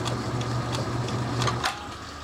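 A small lathe trims down a stringy plastic rod, its motor holding a steady, close whirring hum with light cutting noise before winding down near the end.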